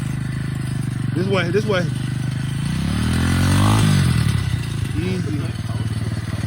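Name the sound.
125cc dirt bike engine running and rolling off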